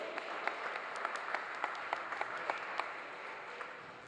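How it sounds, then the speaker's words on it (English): Crowd at a 2016 senior girls basketball championship applauding both teams: a steady, somewhat distant wash of applause with scattered sharp individual claps standing out, fairly soft throughout. "Once again, Miss Sharday Hill, can we give both teams a round of applause, please?"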